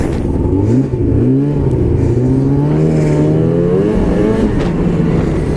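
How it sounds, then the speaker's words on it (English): A fuel-injected 2005 Ski-Doo MXZ snowmobile engine revving on the throttle, loud and close, with a steady rising and falling whine held throughout and no talk. "one of the first things you notice with a fuel injected sled is the throttle response"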